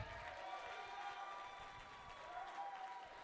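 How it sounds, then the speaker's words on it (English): Comedy club audience at a graduation showcase applauding, a dense steady wash of clapping with some cheering, sustained and somewhat distant. "Start clapping, guys."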